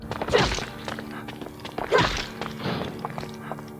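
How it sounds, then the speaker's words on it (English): An axe striking a zombie in Resident Evil Outbreak gives two heavy, dull thunks about a second and a half apart, close and moderately loud, with softer shuffling impacts between them. "it took 5 hits from the axe to defeat a zombie"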